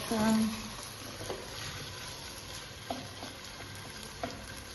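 Tomato paste sizzles steadily in a pan for a carp soup, with a few scrapes and taps from stirring that stand out over the constant frying hiss.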